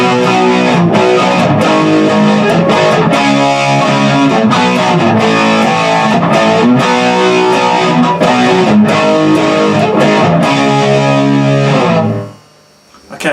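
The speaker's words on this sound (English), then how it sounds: "that's a much more high gain, more metal sound" A high-gain, distorted metal electric guitar plays a dense, driving rhythm part, loud and continuous for about twelve seconds before abruptly cutting off into a brief near-silent tail.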